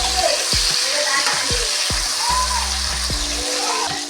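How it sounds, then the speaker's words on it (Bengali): Tomatoes fry in a pan with a loud, close, steady sizzle, broken by repeated scraping strokes of stirring at a regular pace. "টমেটোটা দিয়ে দিলাম। একটু লাল লাল করে ভেজে নেব।"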